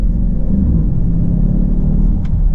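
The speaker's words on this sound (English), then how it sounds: "this car doesn't sound like an M8 or an M5, but it has a little bit of burbles to it" Steady low V8 engine rumble from a 2020 BMW X7 M50i SUV, a deep continuous exhaust burble with slight uneven pulsing, close and fairly loud throughout.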